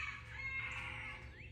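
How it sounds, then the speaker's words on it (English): A chicken crows early in the morning near a porch, sounding faint and distant as one drawn-out call over a low background hum. "You can hear my chicken crowing."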